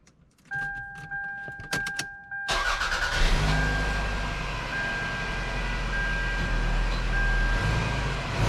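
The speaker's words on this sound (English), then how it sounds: "Okay, I'm going to start up the car." A 1999 Toyota Camry engine with new spark plugs and wires cranks briefly and catches, then settles into a steady, loud idle that continues to the end.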